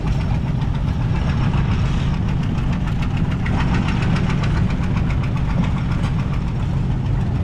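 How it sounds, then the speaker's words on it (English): A tractor engine at a steam and gas engine show chugs and knocks continuously at close range, a rough mechanical idle with constant low rumble and no voices. "We're going to go on a tractor drive around the grounds"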